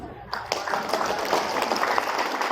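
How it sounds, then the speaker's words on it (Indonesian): A crowd at an Indonesian seminar applauds, a dense wash of clapping swelling in after a brief pause and holding steadily at moderate loudness. "Tepuk tangan dulu"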